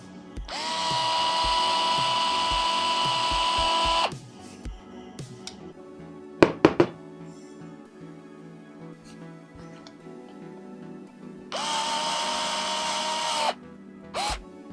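A power driver runs screws into a 3D printer kit during assembly, with two steady whirring bursts of several seconds each and a few sharp clicks and knocks between them, close and without talking.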